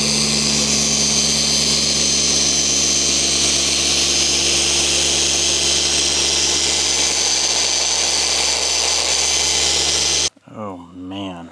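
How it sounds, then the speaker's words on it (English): A Rupes dual-action polisher fitted with a yellow fine polishing pad polishes a car roof, giving a steady, loud, close whirring drone for about ten seconds. It then cuts off and a voice speaks. "The Rupes yellow, they call it the DA fine polishing pad, on, of course, the Rupes polisher."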